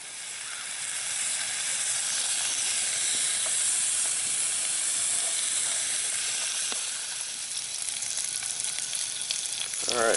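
Sausages fry in a pan over a hot campfire during a winter camp, giving a continuous close sizzling hiss that holds steady for the whole stretch with a few faint clinks, with no talk.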